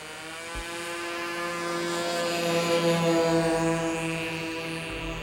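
A small RC model airplane in flight gives a steady buzzing engine drone with a strong harmonic whine, holding fairly constant and swelling slightly mid-flight, with no voices.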